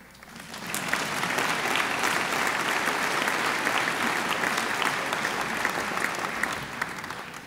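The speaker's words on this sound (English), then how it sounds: "Clap, parents, if you know it." Parents applauding at a 2015 commencement ceremony, a sustained burst of clapping from a large audience that swells quickly and holds steady for several seconds.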